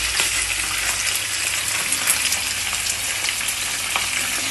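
Fish frying in a pan of hot oil for Kerala-style fish pickle, a steady dense sizzle and crackle that runs unbroken throughout, close and loud, with no voices.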